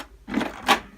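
A Canon NP80 photocopier starts a copy with two short mechanical whirring bursts, close by, within about a second.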